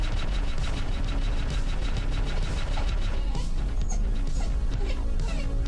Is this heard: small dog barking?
yes